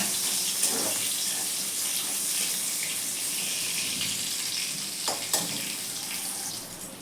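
Eggplant pieces frying lightly in hot oil in a pan make a steady, close, hissing sizzle that runs throughout, with a couple of brief clinks near the end.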